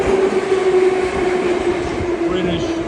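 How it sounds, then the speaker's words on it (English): A Moscow metro train arrives at a station, its loud rolling rumble and rail noise steady throughout, with a sustained electric motor whine gradually shifting in pitch as it slows, no talking heard. "I think the metro is arriving."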